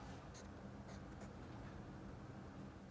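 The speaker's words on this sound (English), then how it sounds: "so let's go ahead and write that out" Pen or pencil scratching across paper while a math problem on set complements is written out by hand, a few brief strokes standing out over a steady faint background hiss.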